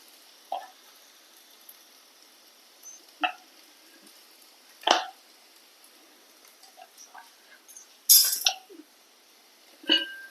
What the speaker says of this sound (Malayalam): ഇതിലേക്ക് നമുക്ക് ചതച്ച മുളക് ഇട്ട് കൊടുക്കുക.